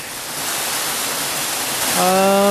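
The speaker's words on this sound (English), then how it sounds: "quite nice waterfall cascading down" A waterfall cascades down near a hammock camp, a steady broadband rush of falling water with a faint tone or whistle creeping in toward the end.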